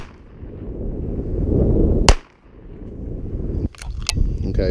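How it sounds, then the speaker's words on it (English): Gunshots fired at Level IIIA body armor outdoors, with 22 LR and 380 ACP rounds: a sharp loud crack over background rumble, then a second pair of quick cracks later, close by. "I'm gonna take two shots here just to see, you know, the difference between both shots"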